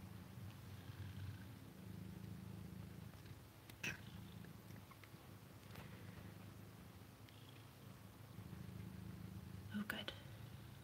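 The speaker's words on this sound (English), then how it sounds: "Can you guys hear her purring?" A cat's soft, steady low purr runs through the whole stretch, close and quiet, with a few faint rustles and light clicks over it.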